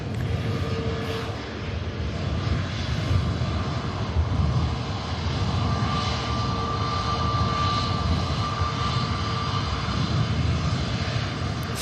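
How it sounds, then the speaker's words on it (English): An EasyJet jet from Krakow landing at Manchester Airport, a steady, loud roar of engine noise with a broad rushing hiss and faint whining tones, sustained without a break and heard from a moderate distance. "Next aircraft to attempt the touchdown is the EasyJet from Krakow."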